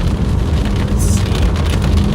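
Rain begins falling during a storm chase in Kansas, a steady patter on surfaces mixed with low rumbling background noise, loud and continuous with no talk.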